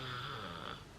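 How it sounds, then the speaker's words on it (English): A man snores once, a brief rough breathy rasp heard nearby and faint in a quiet room. "I can hear him snoring."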